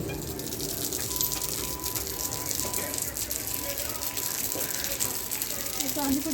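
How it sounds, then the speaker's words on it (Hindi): Heavy rain pours steadily, a broad close-up hiss of water with rattling drops, continuous and fairly loud throughout with no talk over it. "कितनी ज़्यादा बारिश हो रही है"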